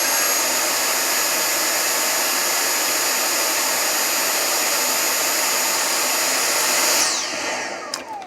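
A Dyson cordless vacuum cleaner with a worn-out battery runs with a loud, steady whining roar, then cuts out abruptly near the end and winds down with a falling whir.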